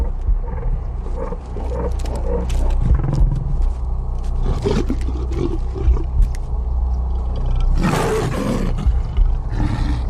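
A lioness roars in the wild, deep and rumbling, with repeated loud, close growling bursts over a steady low background and one stronger, harsher burst near the end.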